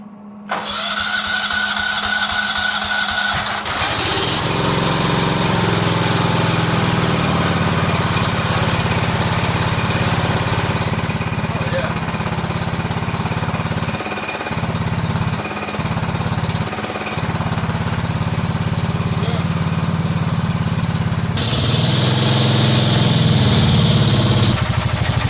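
A Cub Cadet 2166 lawn tractor engine starts up and runs loud and close at a steady idle, with a few brief dips in the roar and a change in tone near the end.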